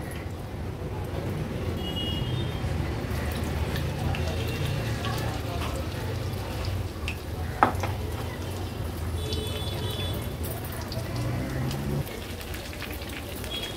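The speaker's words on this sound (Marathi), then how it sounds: "हे बघा, सेकंड बॅच पण भजीची आपली होत आली आहे" Prawn pakodas (kolambi bhaji) deep-fry in hot oil with a steady crackling, rain-like sizzle and one sharp pop, while a voice talks over it.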